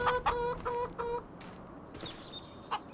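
Several short clucking calls from chickens in a video game repeat in quick succession, fairly close, then give way to quieter chirpy bird-like sounds.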